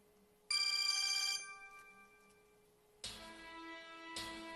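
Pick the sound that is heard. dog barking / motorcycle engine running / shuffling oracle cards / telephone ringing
telephone ringing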